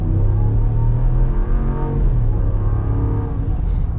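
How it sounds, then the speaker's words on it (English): A 2021 Ram 1500 Laramie pickup with a Hemi V8 accelerating, a loud, deep, steady engine drone from inside the cab that holds strong throughout, with a slight pitch rise and then a settle. "now let's get our acceleration here with the Laramie."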